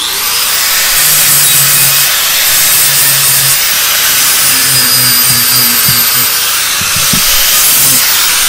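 A 4.5 inch angle grinder with a 40 grit flap disc works a rough cast aluminum compressor housing, a loud continuous hissing grind with a faint low hum beneath.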